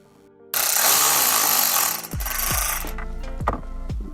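Radio screws come out of an Acura RDX dashboard with a close, loud power screwdriver whir, followed by a string of ratcheting clicks and thuds as the screw backs out.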